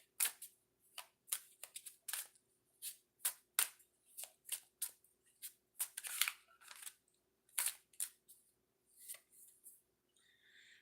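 Oracle cards are shuffled and drawn by hand in a quiet room, a series of crisp riffling bursts and sharp card slaps in an irregular rhythm, close and clear with no voices.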